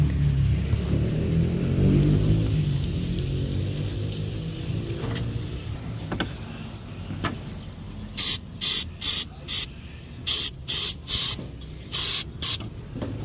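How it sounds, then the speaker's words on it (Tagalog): A run of short, sharp aerosol cleaner bursts, about a dozen, sprayed onto the MAP sensor of a Toyota Innova with an oily turbo, close and loud over a low engine rumble. "Kailangan natin isprayan ito yung pinaka-map sensor niya."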